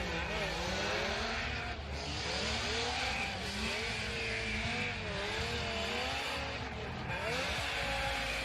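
Dean Kearney's Formula Drift car takes a victory lap at the Atlanta event, its engine revving loudly and steadily with rising and falling pitch as it circles, mixed with crowd and arena noise.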